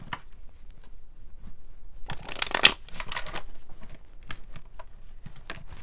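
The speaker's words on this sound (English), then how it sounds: "Okay, lots of shuffling." Tarot cards being shuffled close by, a brief flurry of riffling snaps followed by softer scattered shuffling and taps; no talking.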